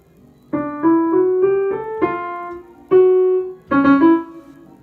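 A piano plays the transition theme of a sonata: a short melodic phrase of sustained notes, several struck in quick succession, then two separate held chords, clear and close with no talking.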